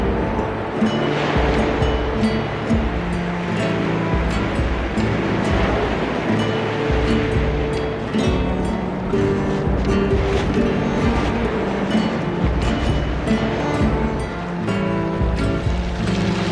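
Ocean waves break and wash continuously onto the shore in a dense, steady roar, loud and close, with wind mixed in and no speech throughout.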